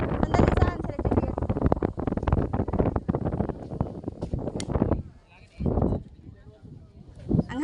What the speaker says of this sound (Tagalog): Ang hangin, no? Parang nasa dagat.